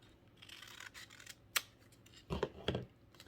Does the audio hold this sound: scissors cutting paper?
yes